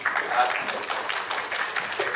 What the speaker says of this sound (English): I'd like everyone to join me in a round of applause